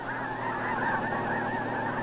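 A flock of geese honks steadily over open, flat marshland, with dense, overlapping calls carrying on without a break and no voices.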